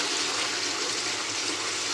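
Tomato chutney boils in a pan, a dense continuous bubbling and hiss, close and steady for two seconds with no voices.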